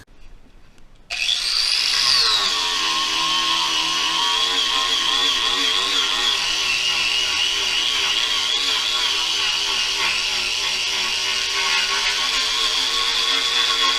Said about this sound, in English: I'm just going to get the grinder, start removing everything.